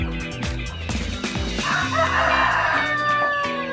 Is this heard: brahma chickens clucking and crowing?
yes